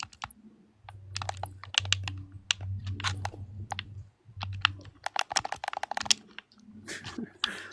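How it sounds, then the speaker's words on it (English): Rapid clicking of computer keyboard keys in bursts across the span, close and fairly loud, with a voice talking intermittently over and between the typing. "Your little keyboard sounds are good."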